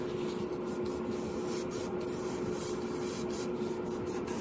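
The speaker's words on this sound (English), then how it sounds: "that looks like spraying pretty nicely" An airbrush sprays paint onto paper with a steady, airy hiss throughout, smooth and continuous over a low background hum, with no voices.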